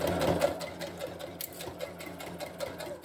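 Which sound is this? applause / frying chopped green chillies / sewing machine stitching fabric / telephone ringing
sewing machine stitching fabric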